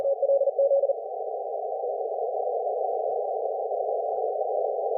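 An amateur radio CW sidetone sounds as a single clean steady tone, keyed in a few short Morse pulses at first and then held as one unbroken note for the rest of the clip, with no talking.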